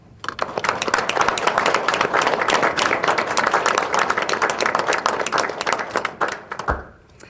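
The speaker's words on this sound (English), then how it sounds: "Please join me in applauding these fine men and women." A civic audience applauds police, fire and emergency services at a State of the City address: sustained, dense clapping from a large crowd that swells and holds for several seconds, then breaks off abruptly near the end.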